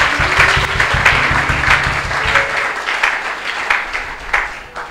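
A church congregation applauds for Jesus during a Sunday service, dense sustained clapping from many hands, loud and close, with no clear speech over it.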